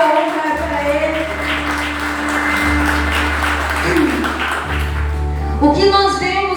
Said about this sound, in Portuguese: Jesus merece uma salva de palmas.